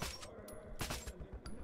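Gunfire in the video game Metro 2033 Redux, several sharp shots and short bursts spread across the moment, fairly quiet within game ambience.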